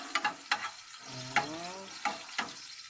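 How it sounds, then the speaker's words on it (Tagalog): Garlic sautéing in a hot pan for pork binagoongan, a close sizzle broken by several sharp scraping stirs of a spatula against the pan, with no talking. "Magigisa na po tayo ng bawang."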